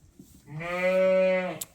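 A ewe on a farm gives a single clear, close bleat of about a second, loud and steady against quiet background.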